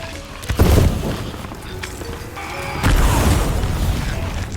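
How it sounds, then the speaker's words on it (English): Powder kegs blow up in the pirate video game Sea of Thieves: a loud boom early on, then a second heavy blast a couple of seconds later, with rumbling debris and ambient noise between them and no talk. "So the first time I sped up the explosion with the Chest of Rage"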